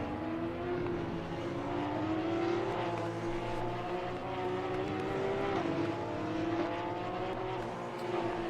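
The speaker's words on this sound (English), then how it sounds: "Quite nice sounding cars as well, as most cars are in this game." Porsche Cup race cars at the Kyalami circuit in a racing game, engines droning loudly and continuously with pitch rising and falling through gear changes, several cars blended together.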